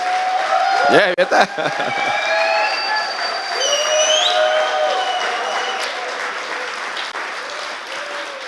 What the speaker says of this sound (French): Puis une bonne main d'applaudissements pour Rabbi.